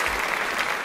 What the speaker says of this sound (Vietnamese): Một tràng pháo tay cho thí sinh Miss Tà Beo thưa quý vị